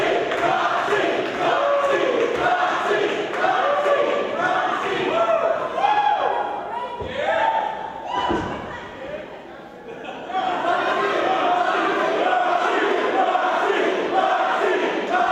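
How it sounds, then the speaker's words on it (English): A wrestling crowd at the World Gym Arena in Texas City chants a wrestler's name at a lucha libre show, loud rhythmic crowd chanting and cheering, dipping briefly midway before swelling again, with a commentator talking over it. "as you hear the crowd chant her name"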